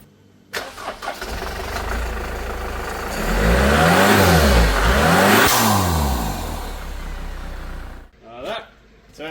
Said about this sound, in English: That sounded like the boost pipe came off.